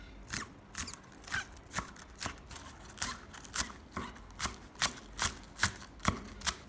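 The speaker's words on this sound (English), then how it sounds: "Chop some green onions." A kitchen knife chops green onions on a cutting board in a steady series of about a dozen crisp, close taps, growing slightly louder toward the end, with no talking.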